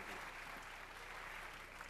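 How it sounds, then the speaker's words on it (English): An audience at a country music awards show applauds in a soft, even wash of clapping that stays constant for the whole brief moment. "So I think you all deserve a great round of applause."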